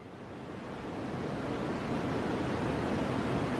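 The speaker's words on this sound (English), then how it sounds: "Because in the sidebar, they play white noise." White noise plays in a courtroom during a sidebar, a steady broadband hiss that swells slightly at the start and then holds constant, with no voices audible.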